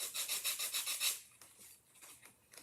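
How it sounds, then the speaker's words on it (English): Sanding sheet rubbed in quick, rhythmic strokes over rough paint on a flower pot, a bright close scratchy rasp repeating about eight times before fading into softer, scattered strokes. "and just sand it smooth."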